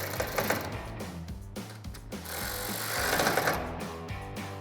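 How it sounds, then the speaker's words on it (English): A T15 Torx socket runs the taillight screws tight on a Chevrolet Silverado 1500 during installation of a tailgate LED light bar, giving a loud, close, continuous motorized whir that briefly stops and restarts several times. "Then take your T15 torque socket and tighten those down."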